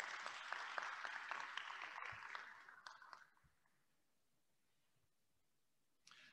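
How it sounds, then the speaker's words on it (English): Light applause from a modest audience at an honors convocation, clapping steadily before fading out to near silence, with a few scattered claps afterward. "We'll give this row a nice round of applause."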